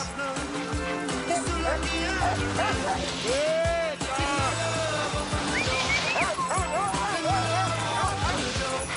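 Sled huskies bark, yip and whine excitedly at a snowy dog-sledding outing near Calgary, many dogs overlapping in a loud continuous chorus close by.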